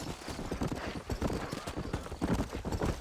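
Horse hooves clip-clop steadily at a trotting pace in the Red Dead Redemption video game on PS5, close and continuous, with a dense, even rhythm of hoof strikes throughout and no talk.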